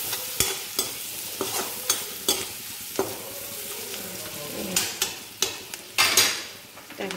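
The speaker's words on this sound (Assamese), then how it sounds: "তাৰপিছত এতিয়া আকৌ অকণমান ভালদৰে এনেকৈ লৰাই ল'ব।" Fish curry seasoned with turmeric and salt gets stirred in a hot pan for fish kalia: a spoon scrapes and knocks repeatedly against the metal in uneven strokes while oil sizzles continuously underneath, close up with no voices.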